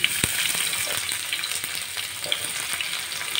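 Chopped onions and whole cumin seeds frying in hot oil in a wok-style pan, a steady close sizzle with small crackles and light pops throughout, no talk.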